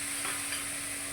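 Food stirred in a cooking pan as it fries, a brief soft sizzle with a couple of faint scraping strokes over a steady background hum.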